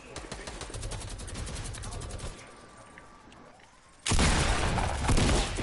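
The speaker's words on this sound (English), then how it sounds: "Who's shooting at us?" Fortnite Season 4 gunfire on PS4: rapid bursts of automatic shots crackle for about two seconds, then a quieter lull, before another loud, dense volley erupts near the end.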